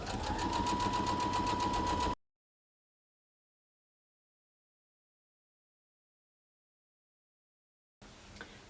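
A sewing machine stitches quilt strips in a steady, even mechanical hum with a fine rapid needle rhythm, heard close for about two seconds, then silence, then a quieter return at the end.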